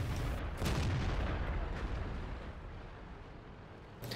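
Heavy artillery in World of Tanks on the Swamp map, a loud, near continuous rolling boom with a sharp new blast near the start and another at the end, alone with no talk.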